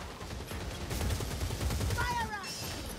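A Skaven warpfire gunner firing in Warhammer Vermintide during the Festering Ground mission on Cataclysm difficulty, a continuous rattle of rapid shots under shouted voices.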